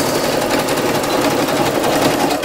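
A sewing machine runs a zigzag stitch in a steady, loud, continuous whir that carries on unbroken the whole time, with no voices.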